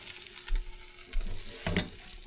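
Food frying in a cast iron pan, a soft steady sizzle with a few louder crackling bursts, close up and fairly quiet, with no talking.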